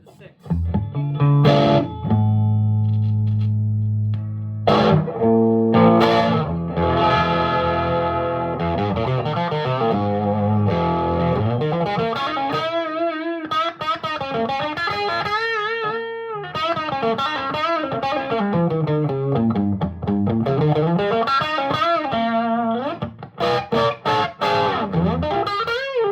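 A 2001 Gibson EDS-1275 double-neck SG electric guitar played through effects, with ringing chords and runs of distorted, modulated notes filling the whole stretch, loud and close, with no talk over it.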